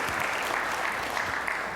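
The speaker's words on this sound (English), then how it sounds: "So here, it's true, we could clap at that." Brief, even applause from an audience at a university lecture, a steady wash of many hands clapping at moderate volume with no voices standing out.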